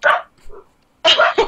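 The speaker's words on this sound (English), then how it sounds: "I've got dogs barking" Dogs barking nearby in a home during a game session: two short bursts of loud barks with a brief softer yip between them.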